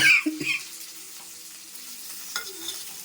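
Curry leaves and coriander are fried with green chillies in hot oil, opening with a brief crackling burst that settles into a faint sizzle as a utensil stirs.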